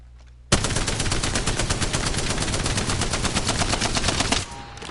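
A machine gun fires continuously in an Apex Legends firing test, a rapid steady stream of sharp shots lasting about four seconds, loud and close, stopping abruptly with faint ambient game sound around it.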